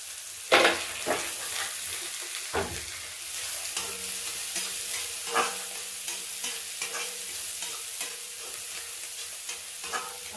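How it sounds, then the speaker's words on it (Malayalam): Large onions being sautéed in oil in a pan, a steady sizzle broken by repeated spoon scrapes and clinks at irregular intervals, close and clear with no talking. "നല്ലോണം വഴറ്റി വഴറ്റി കിട്ടട്ടെ"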